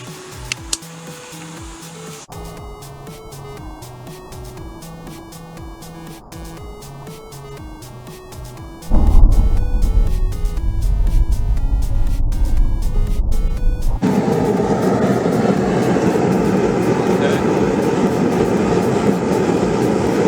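A Hell's Forge portable double-burner propane forge sits behind a steady, loud hiss that jumps into a deep, broad roar partway through as the burners light, then keeps rumbling continuously.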